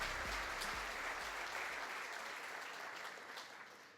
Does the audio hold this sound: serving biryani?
no